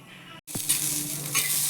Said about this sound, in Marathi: हे अशा तव्यामध्ये मी हे तुरीचे दाणे भाजून घेत आहे